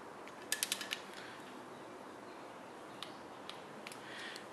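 A ratchet clicks quickly several times, then makes a few faint single clicks, as bolts are snugged down on the timing chain cover of a Chevy small-block engine in a quiet shop.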